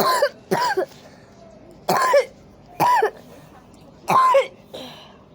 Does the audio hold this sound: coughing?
yes